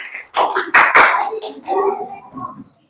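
A classroom of students claps for a student group, a few loud bursts of hand claps close by that quickly die away, mixed with children's voices.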